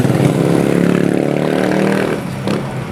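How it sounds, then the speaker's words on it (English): A motorcycle passes along a street in a province of the Philippines, its engine a loud, steady rumble that fades slightly toward the end. "motorcycles"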